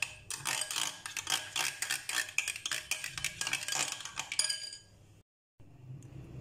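Spoon rapidly clinking against a bowl while chicken tikka marinade is mixed with salt, ajwain, red chili and paprika, a steady run of close metallic taps and scrapes that stops abruptly near the end.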